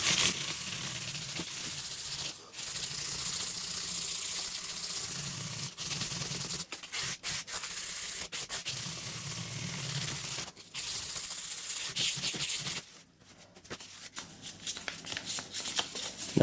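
Strip of 400 grit sandpaper rubbed back and forth over the frets of a 1976 Les Paul-style guitar, a steady close abrasive scratching that runs nearly continuously with a few short pauses.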